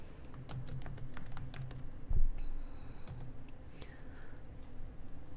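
Fingers tapping out an amount on a point-of-sale keypad at a checkout register, a quick run of crisp plastic key clicks with pauses between bursts, near and fairly quiet over a soft room hum.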